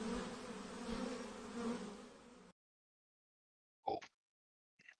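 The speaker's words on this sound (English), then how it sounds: "I can hear I can hear them buzzing around" Insects buzz as a sound effect in a D&D virtual tabletop game: a dense, close droning swarm runs for a couple of seconds, cuts to silence, and then two brief buzzing flickers follow.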